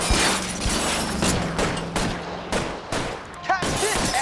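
Covering gunfire in L.A. Noire, rapid repeated shots cracking in an irregular volley, loud and close, over a low rumbling game backdrop.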